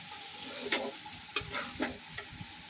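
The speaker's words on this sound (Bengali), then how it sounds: "এখন রান্না করছি হচ্ছে ছোট মাছ দিয়ে চচ্চড়ি, ছোট মাছের চচ্চড়ি।" Small fish chorchori cooks in a pan with a soft sizzle, broken by a few sharp scraping and tapping stirs.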